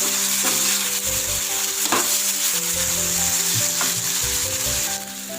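Spinach sautéing in a hot pan for sambar, a steady close sizzle with bursts of crackle and occasional stirring clatter, continuous throughout with no talking.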